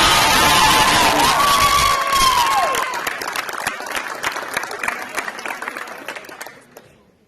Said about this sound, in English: a round of applause as she's signing it